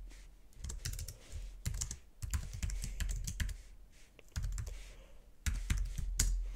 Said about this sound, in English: Okay, so I will give it my password.